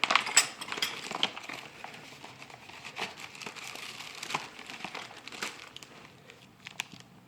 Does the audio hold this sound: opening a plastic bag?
yes